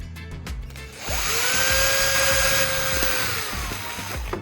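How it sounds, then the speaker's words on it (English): A small power drill whines steadily for a few seconds at close range, drilling a plastic bottle cap with a small bit, its pitch holding level before winding down, with faint ambient noise around it. "I'll drill a hole in each bottle cap."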